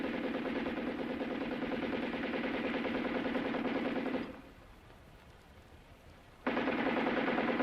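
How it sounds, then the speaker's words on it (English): Off-screen machine gun fire in the film Duck, You Sucker, sustained rapid bursts that stop for about two seconds and then resume, loud and dense, with no speech. "shown by the off-camera sound of machine gun fire as John Mallory looks at the bodies"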